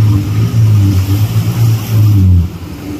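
A motorbike engine approaching through a knee-deep flooded street, a loud close low drone that rises and dips in pulses for a few seconds with no talk.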